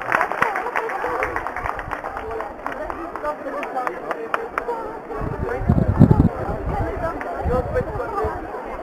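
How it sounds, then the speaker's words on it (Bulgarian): Audience applauding Daniela Koleva, teacher of the year 2012, at a ceremony in Kostinbrod, with a steady clatter of many hands that swells louder near the end amid crowd chatter. "Очаквам да чуя шумните ви аплодисменти за госпожа Даниела Станиславова Колева!"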